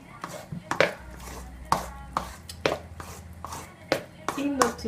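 A spoon repeatedly knocks and scrapes through a bowl of thick chestnut, coconut and raisin muffin batter, giving irregular close taps under a faint low hum.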